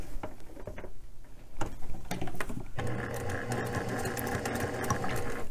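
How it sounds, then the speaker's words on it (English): A domestic sewing machine quilting: a few slow separate stitches first, then a steady, close, rapid mechanical whir of stitching running without talk. "turn my machine on. Now take my few stitches"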